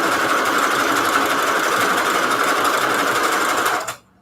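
A sewing machine runs a zigzag stitch in one fast, steady, loud mechanical whir that stops abruptly near the end.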